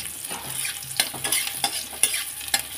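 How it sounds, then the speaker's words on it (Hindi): Onions lightly sautéed in a pan for masoor dal saag, soft sizzling punctuated by a series of sharp spatula scrapes and clacks at an uneven rhythm, close by. "ज़्यादा नहीं भूनना है, हल्का ही भूनना है इसको"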